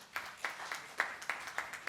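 A few sparse, separate claps from a conference audience at an internal audit conclave, faint and hollow in a large hall, isolated hand slaps rather than full applause.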